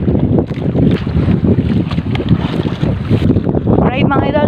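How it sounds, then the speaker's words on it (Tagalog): Strong northeast monsoon wind buffets a small fishing boat at sea, roaring and gusting loudly against the microphone over the boat's rumble, with a brief faint voice near the end. "Medyo malakas pa rin si Amihan."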